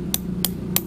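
Hammer driving a nail into a coconut, three sharp metallic taps evenly spaced about a third of a second apart, close and crisp over a low background hum.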